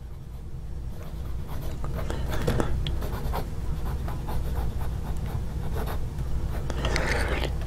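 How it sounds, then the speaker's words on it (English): A duck bill 0.7 nib dip pen writing with permanent ink on paper, close and steady scratchy strokes in short bursts across the whole stretch, over a constant low background rumble. "I put the ink in the pen and I started writing."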